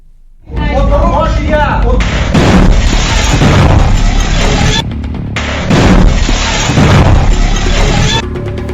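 Loud, chaotic grenade blasts and crashing bursts erupt in close succession with heavy rumbling noise, broken by brief pauses and muffled commotion, during a meeting in Ukraine.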